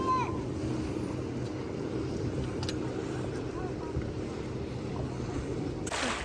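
A boat cruises across Lake Alakol toward an island beach, with a steady broadband rumble of engine and water that is continuous and close, with faint wind throughout.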